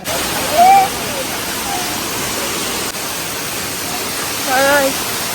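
A waterfall near Ekvira temple at night, full of water, gives a steady, dense roar that fills the scene, with brief voices rising over it twice.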